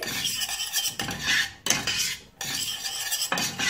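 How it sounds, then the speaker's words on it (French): A utensil clinks and scrapes against a pot or bowl while couscous ingredients with saffron and onion are mixed, several bursts of rough stirring broken by short pauses, close and moderately loud. "Alors, je vais mélanger tout ceci."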